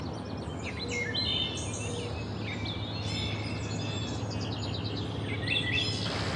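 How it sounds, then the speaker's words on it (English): A wood thrush sings outdoors by a front porch in spring, faint fluted phrases repeating over a steady low background hum. "I wonder if you guys hear the wood thrush singing."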